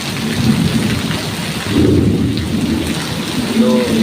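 Heavy rain pours steadily, with thunder rumbling low and continuous beneath it, loud and close throughout, with no voices.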